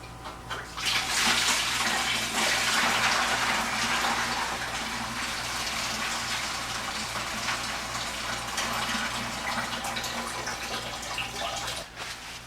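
Coolant pours from the lower radiator hose of a 1986 Mustang GT into a drain pan, a loud, steady splashing gush that runs the whole time with a faint low hum underneath.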